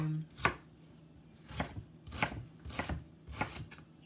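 A knife chops onions on a board for yellow curry noodles, giving about five distinct, crisp strikes spaced unevenly, close and fairly quiet with no voices.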